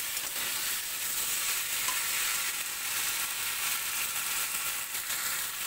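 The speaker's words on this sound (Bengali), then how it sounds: "একটু ভালো করে কষিয়ে নেবো" A vegetable curry with ripe red chillies sautés in a pan, giving an even, continuous close sizzle and frying hiss with light stirring throughout and no speech.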